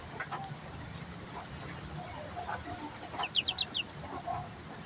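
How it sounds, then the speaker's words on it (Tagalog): Wet ducklings peep and chirp in high bursts, with a quick run of calls near the end, over a low farmyard background. "dami nilang makukulit na duckling, oh"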